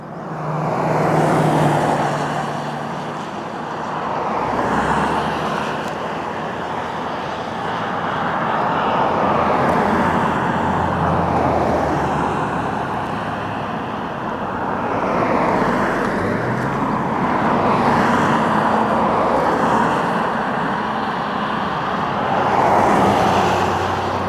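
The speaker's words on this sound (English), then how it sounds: "here we are on our way to Estes Park with this new 2023 Ford F350 Super Duty." A new 2023 Ford F350 Super Duty Limited pickup with the High Output Power Stroke diesel cruises on the road, giving a steady broadband rumble of tire and road noise with gentle swells in loudness throughout.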